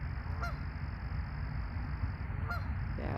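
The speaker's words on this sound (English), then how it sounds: "you can hear the sound of the geese." Geese honk outdoors against steady ambient noise, two brief calls spaced about two seconds apart, moderately distant.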